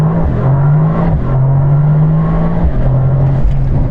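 A car accelerates hard during an acceleration test run, its engine note loud and close, rising in pitch through brief gear-shift dips over a few seconds.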